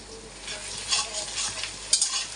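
Onion and a tomato fry in oil with bay leaves for chicken bhuna, making a steady sizzle with a few stirring scrapes close by.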